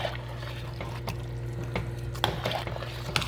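Cajun chicken, sausage and shrimp pasta being stirred in a pot: a thick, wet squelching and sloshing with occasional soft clicks of the spoon, close and fairly quiet.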